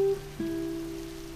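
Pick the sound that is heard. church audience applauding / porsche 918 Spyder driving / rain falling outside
rain falling outside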